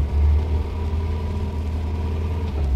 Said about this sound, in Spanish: también nos comunica de un motor, supuestamente de un auto, incluso que en este momento se va alejando